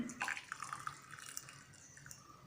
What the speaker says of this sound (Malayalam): ഒരു ഗ്ലാസ്സിലോട്ട് ഒഴിക്കാം